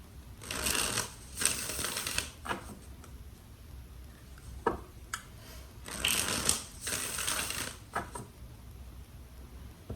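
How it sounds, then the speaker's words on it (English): A tarot deck is shuffled in a few separate bursts of quick riffling card noise, close and fairly quiet, with short pauses between the shuffles and a single brief tap or shift of cards. "Two more shuffles."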